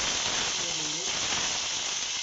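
Onions dropped into hot oil with cumin seeds, giving a steady, loud broadband sizzle and hiss that holds evenly throughout, with faint talk beneath.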